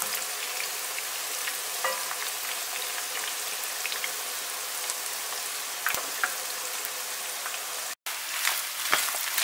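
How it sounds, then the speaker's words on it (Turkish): Minced meat frying with onions and peppers in a pan gives a steady, dense sizzle throughout, with occasional stirring scrapes and a brief dropout near the end. "Soğan ve biberlerle kıymayı kavurmaya devam ediyorum."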